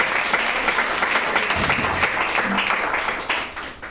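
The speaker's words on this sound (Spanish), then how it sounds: "denle usted y yo un aplauso a Yeshua HaMashiach, nuestro Señor" A church congregation claps together during a service, a loud, full burst of applause that carries on steadily and then begins to fade toward the end.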